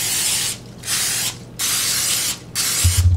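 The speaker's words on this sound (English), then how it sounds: "I'm gonna spray that. And what I also do is spray the fish." Three bursts of cooking oil spray hiss close by onto fish, each lasting about half a second with short pauses between, followed by a light clatter.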